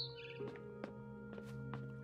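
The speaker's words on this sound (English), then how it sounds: "Then I heard chirping outside my window." A barn swallow in the game What Remains of Edith Finch gives several short, bright chirps outside a window, spaced about half a second apart over a steady low musical hum.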